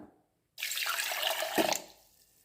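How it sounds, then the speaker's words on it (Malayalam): Cold water poured from close by into a blender jar of lime juice with green chilli, a steady splashing stream lasting just over a second after a brief silence, with nothing else audible. "കുറച്ച് തണുത്ത വെള്ളം ഒഴിച്ചു കൊടുക്കാം"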